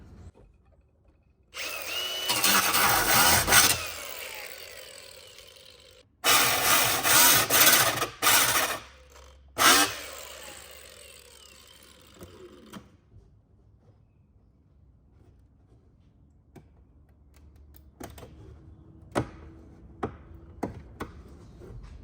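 An angle-grinder cutoff wheel with its guard removed cuts metal while an AEV snorkel is fitted; two loud, close bursts of harsh grinding, several seconds each with short breaks, then quieter scattered clicks and handling noises.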